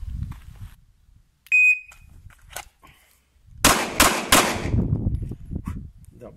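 A short electronic timer beep, then three sharp, loud pistol shots from an HS SF19 in quick succession, each ringing out with a brief echo.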